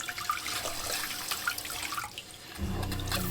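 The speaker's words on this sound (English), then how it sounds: "that one came out and it's squirting water all over the place" A bidet sprayer installed on a boat squirts water all over in a steady close hiss, and a low humming rush joins in during the last second.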